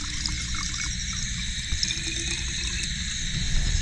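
Continuous liquid pouring of kerosene into a container outdoors at night during termite hunting, a steady close trickle and gurgle with a constant high insect-like drone behind it.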